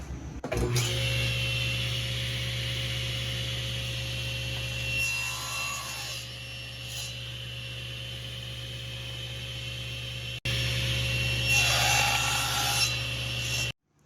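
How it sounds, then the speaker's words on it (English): A table saw hums steadily at close range while its blade trims the ends of a wooden pen blank, the motor drone broken by two louder passes of cutting through wood, ending abruptly as the saw stops; no one speaks. "Cut the ends on the table saw."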